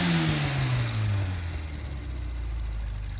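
A tuned car engine with a lean-running, out-of-tune carburetor winds down from a rev to a steady idle, close and loud, its pitch sliding lower before settling into a rumble.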